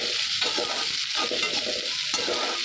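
Onions fry in a hot pan with a continuous bright sizzle, while a spatula stirs them through repeated scraping strokes in a loose rhythm. No one speaks.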